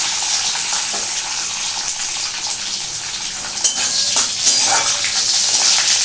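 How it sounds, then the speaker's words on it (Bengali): Food fries in a pan in a home kitchen while a Bengali mung dal with vegetables, curry leaves and mustard is cooked, making a loud, continuous broadband hiss with small crackles and a few bumps. "ভালো করে ভাজবো"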